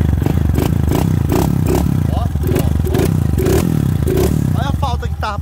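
A misfiring Honda Fan 160 motorcycle, bored to 205cc and running on gasoline, idles and revs unevenly with rough, stumbling pulses and clattering, close by, while people talk over it.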